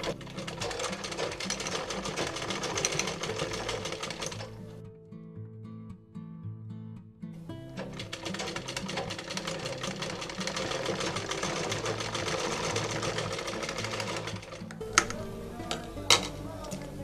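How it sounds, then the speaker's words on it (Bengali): A sewing machine stitches elastic onto a cloth face mask, running in long steady whirring stretches with a short pause in the middle and a couple of sharp clicks near the end, close and alone without talk. "আর এই সেলাইটা কিন্তু ডাবল করে করতে হবে।"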